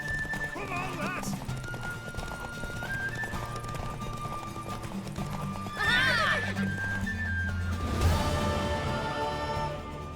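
A horse in The Witcher 3 gallops with steady clip-clopping hooves and lets out a loud whinny partway through, while game voices talk over the action.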